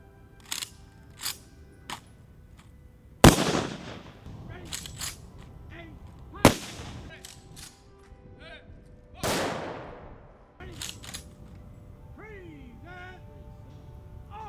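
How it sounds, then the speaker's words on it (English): Rifle volley at a military funeral at Arlington National Cemetery: three sharp, loud gunshot cracks spaced about three seconds apart, each echoing out, with faint birdsong and small clicks in between. "The officer in charge presents arms to initiate the rifle volley."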